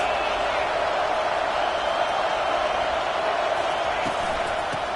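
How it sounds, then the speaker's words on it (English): A stadium crowd at an American football game roars in a steady, dense wash of noise that carries through the whole stretch without letup. "This crowd trying to make life miserable for this offense."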